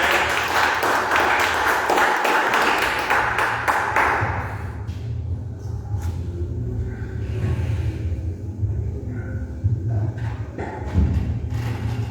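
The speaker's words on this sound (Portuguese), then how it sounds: "aplauda o Senhor recebendo a pastora Maricela" A church congregation claps loudly for several seconds during a worship service, then the applause fades into low rumbling room sound and scattered faint noises.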